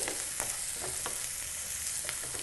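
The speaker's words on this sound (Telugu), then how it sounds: "ఆనియన్స్ వేసి ఆయిల్లో దోరగా వేయించుకోవాలి" Onions frying in hot oil for mutton kurma, a steady close sizzle with occasional stirring scrapes against the pan, no voices.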